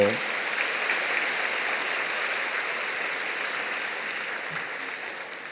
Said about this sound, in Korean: 여러분 크게 박수로 환영하시지요